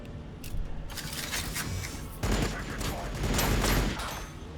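Necron Tomb Blades open fire in Warhammer Battlesector, a dense rattling fusillade of shots running steadily throughout and swelling louder in the second half, with battle noise layered underneath.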